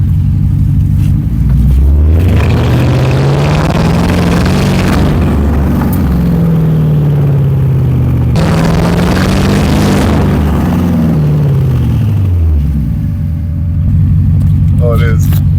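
A Porsche Cayenne Turbo V8 with its muffler deleted revs up loudly and close, rising and falling twice in long deep sweeps over a steady heavy rumble, alone with no talk.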